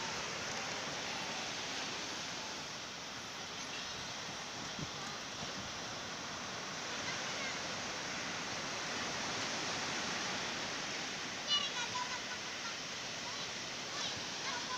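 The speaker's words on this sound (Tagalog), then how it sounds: "grabe yung alon dito" Ocean surf rolling onto a sandy beach where people are surfing, a steady broad wash of breaking waves that stays continuous and fairly loud throughout, with no clear talk over it.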